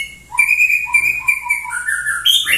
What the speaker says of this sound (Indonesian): Suara burung yang indah, murai batu.